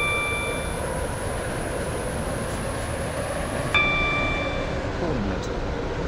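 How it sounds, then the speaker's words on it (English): A Waterline passenger train of two coaches runs toward Port Benton, a steady loud rumble of wheels and carriage noise filling the whole stretch, with faint chime tones near the start and again midway. "Welcome aboard this Waterline train to Benton."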